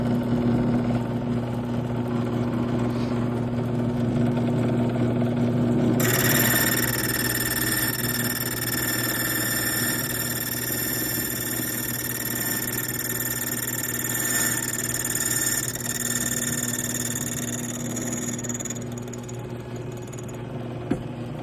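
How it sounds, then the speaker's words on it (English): A key cutting machine hums steadily while cutting a new brass key, with a higher whining grind that rises in the middle and fades toward the end, heard up close without talk. "Meanwhile, this key will get cut over here."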